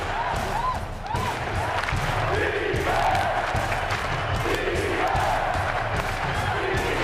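Cavaliers fans roar in a packed basketball arena during the 2007 NBA Finals against the Spurs, a loud, sustained crowd din with rising cheers and shouts throughout.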